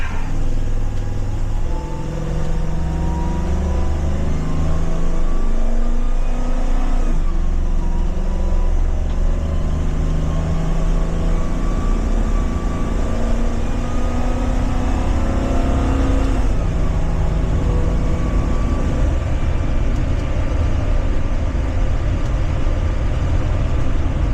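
A 2023 Blue Bird Vision school bus engine pulls under full acceleration, a steady loud drone rising through the gears, with clear shift dips and the whine climbing again, heard from inside the cab.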